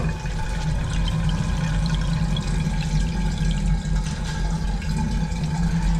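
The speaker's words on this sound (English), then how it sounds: "We'll flush that through." Water rushing through a blocked drain being flushed out, a loud, continuous gushing with a low rumble that stays steady throughout, no voices.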